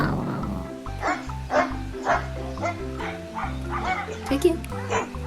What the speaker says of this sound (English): The dog says, woof, woof, woof, woof.